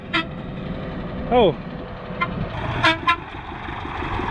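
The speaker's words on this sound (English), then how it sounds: "There is a truck approaching us." A truck comes along a remote road across the Kazakh steppe with a low rumble and a few short horn toots, and one voice briefly exclaims.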